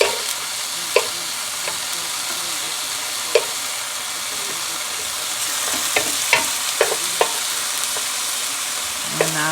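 Mushrooms fry in a pan with a constant loud sizzle, while a utensil stirs them, its scrapes and clicks striking at irregular intervals over the hiss, with no talking.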